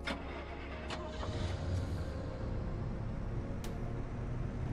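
A car engine cranks and catches in the survival driving game Pacific Drive, with a few sharp mechanical clicks and then a low, steady idle rumble, all fairly quiet.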